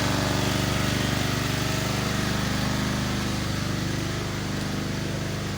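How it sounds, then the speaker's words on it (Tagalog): A water pump engine runs steadily while draining a fishpond, a loud continuous mechanical drone with an even, unbroken hum and no voices over it. "Umaandar kasi yung makina."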